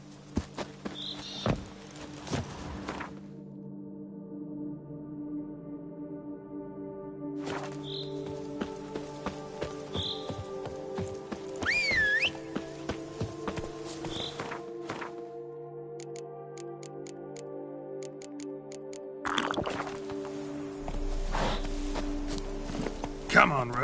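Roach the horse in The Witcher 3, hooves clip-clopping at a walking pace in steady uneven taps, fairly close, with game music and a voice speaking in places.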